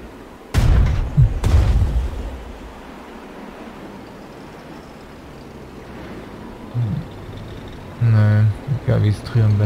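An artillery shot in the Strategic Mind: Spectre of Communism strategy game, set in the Battle of Stalingrad 1942, lands as two heavy booms early on, followed by quiet rumble and brief bursts of talk.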